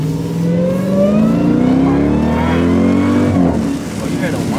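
A Jeep engine revs hard up through rising pitch with an audible whine on top, loud and close, then eases off, with people talking over it.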